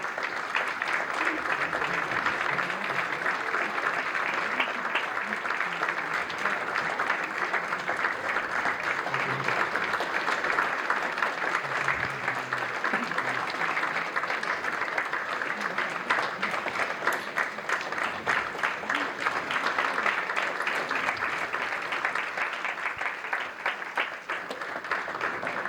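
A large audience at the New York and New Jersey launch of a food movement claps steadily for over twenty-five seconds, a dense, unbroken roar of applause filling the room without letting up.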